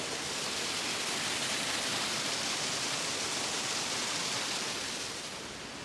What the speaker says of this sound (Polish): tylko minie ten wodospad